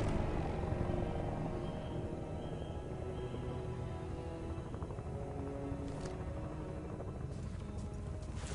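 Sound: Russian helicopters in the video game Battlefield Bad Company 2

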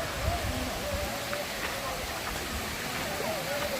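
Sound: waterfall

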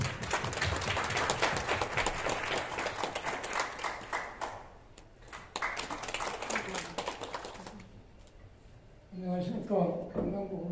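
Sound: applause welcoming the district council chairman

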